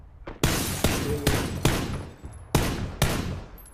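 Repeated gunfire in PUBG, roughly eight sharp, loud shots fired in an irregular rhythm, each a sudden crack with a brief decaying tail, close and without talk.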